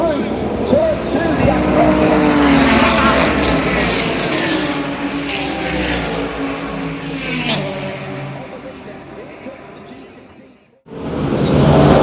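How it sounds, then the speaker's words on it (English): IMSA sports cars race three wide through a turn, Porsches and a BMW M Hybrid V8 among them, engines roaring loudly and layered with revving pitch sweeps as cars pass, then a brief cut and the roar resumes. "Both of the Porsches coming very quickly. This is three wide going through turn 2."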